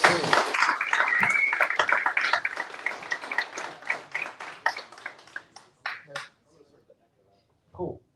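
Applause at an annual member meeting greets a speaker, a dense burst of clapping that thins into scattered individual claps and dies away, with a voice briefly heard at the end.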